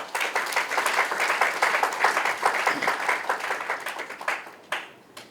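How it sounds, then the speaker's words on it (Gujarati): An audience at a religious discourse by a Jain monk breaks into loud, sustained applause, a dense rhythmic mass of clapping that swells and pulses before tapering off with a few final claps. "એમના માટે પણ આજે તાળી વાગવી જોઈએ"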